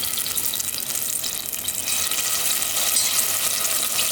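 Minced garlic sizzles in hot oil in a pan while cooking vegan black bean chili, a steady broadband hiss and crackle that holds constant throughout, with no talking.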